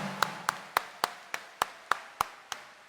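Rhythmic unison clapping from a church congregation at a mass, nine sharp, evenly spaced claps in a steady beat, clear and moderately close.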